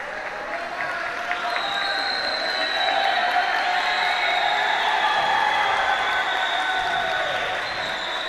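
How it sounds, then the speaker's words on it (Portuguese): A crowd at a jiu-jitsu event in The Orange League gives sustained applause and cheers after Mica Galvão's special fight against Leandro Rounaud, a steady roar of clapping that swells slightly and holds throughout. "Uma salva de palmas aí"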